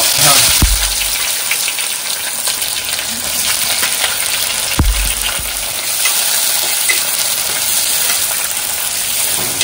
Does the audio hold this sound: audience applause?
no